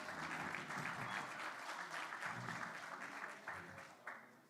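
Audience applause at a South Africa Investment Summit panel, steady, moderately distant clapping from a crowd that carries on for several seconds before tapering off.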